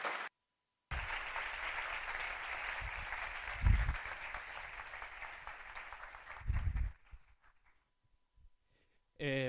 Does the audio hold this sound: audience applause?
yes